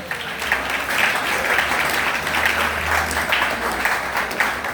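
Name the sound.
congregation applauding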